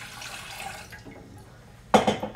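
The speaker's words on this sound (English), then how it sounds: "we are going to pour in our water." Water pours into a pan on a stovetop during the making of onion sorbet, a soft splashing burst near the end after a quiet stretch of faint background hiss.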